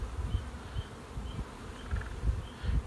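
Honey bees hum steadily inside an open beehive during a beekeeping class, a dense, close, continuous buzz with faint individual wingbeats rising and falling and no talk.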